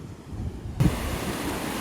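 Strong waves surge onto a beach in Da Nang, a wash of broad roaring surf that swells suddenly partway through and stays loud and steady, with wind buffeting the microphone.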